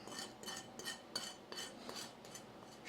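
Membrane is scraped off Texas-style pork spare ribs in faint, rhythmic strokes, about two or three per second, soft and close with no voices.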